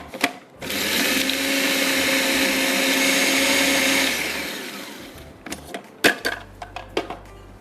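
A kitchen blender whirs loudly for about three seconds blending biscuit crumbs, then spins down, followed by a few sharp clinks and knocks.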